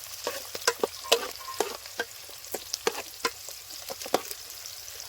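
Onions being stirred into boiling village-style sambar, a close run of irregular scraping clicks from the spoon against the pot over a steady bubbling simmer, with no talk.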